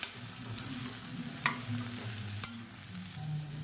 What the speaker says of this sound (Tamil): இப்போ கத்திரிக்காய் முருங்கைக்காயெல்லாம் ஓரளவுக்கு வதங்கிடுச்சு